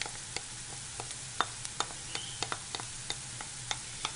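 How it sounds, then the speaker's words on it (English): Onions and garlic sauté in a pan with a steady soft sizzle, broken by small regular pops and ticks, fairly quiet and close, with no talk. "So we're going to saute the onions. And then to that, we're going to add garlic."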